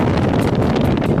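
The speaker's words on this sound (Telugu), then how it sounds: "ఫుల్ గాలి అయితే వస్తుంది" Strong seaside wind blows steadily past the microphone beside the coastal Tiruchendur Subramanya Swamy temple, a loud continuous roar and buffet with no voices.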